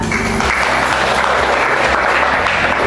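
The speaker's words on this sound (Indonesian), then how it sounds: "Oke, tepuk tangan." In a classroom teaching session, a group of students claps in a continuous, fairly loud burst lasting a few seconds, with an even wash of hand claps and no clear speech on top.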